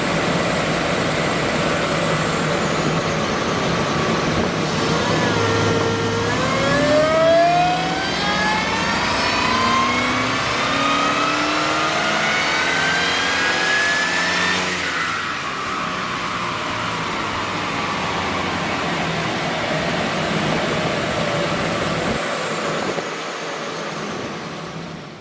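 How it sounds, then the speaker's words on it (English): A Ford FPV GT engine warming up on a chassis dyno, loud and close, rising steadily in pitch through a long run-up, easing back, then holding a constant drone before dropping away at the end. "We're just going to warm up the car on the dyno"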